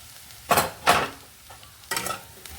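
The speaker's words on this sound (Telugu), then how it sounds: "ఈ వేగడం చాలు" Bitter gourd frying in a pan, a few distinct scraping stir strokes over a low background sizzle, close and fairly loud, in short bursts separated by pauses.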